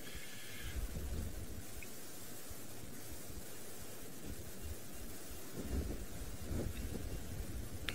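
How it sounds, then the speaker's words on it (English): Strong, blustery wind roars steadily outdoors on an early morning, a loud continuous rushing broken by occasional low gusts and buffets, with no talking. "You can see how strong the wind is still as it's blustering around her."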